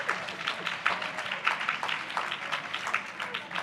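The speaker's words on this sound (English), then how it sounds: "The applause should reflect that." A conference audience claps steadily in a dense, continuous burst of applause from many hands, with some voices mixed in beneath the clapping.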